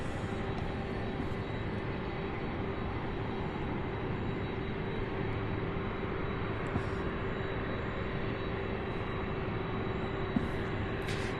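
A 21-year-old UPS Airbus A300 freighter at Louisville International Airport, a steady, loud, broadband engine roar that holds evenly throughout with no break.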